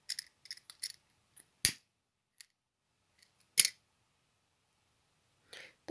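Scissors snipping yellow thread during needle lace work: a few quiet close clicks and two sharper cuts separated by silence.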